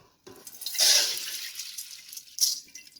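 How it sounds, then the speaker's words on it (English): Soaked rice being drained, with water rushing and splashing out in a short nearby burst that swells, eases off, then surges briefly again. "I am also going to drain the soaked rice"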